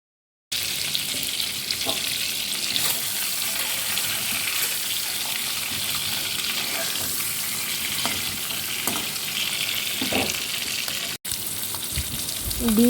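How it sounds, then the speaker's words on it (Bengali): Boiled eggs frying in a pan for an egg curry, a steady continuous sizzle with faint stirring and scraping clinks throughout, close and even in level. "এবার ডিমগুলো লাল করে ভেজে নিচ্ছি।"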